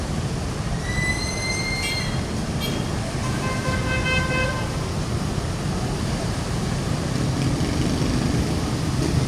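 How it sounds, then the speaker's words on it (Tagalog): Traffic flowing on EDSA road: a steady, loud roar of passing vehicles runs throughout, with a few high horn toots or squeals cutting through near the start. "Ganda ng agos ng mga sasakyan doon."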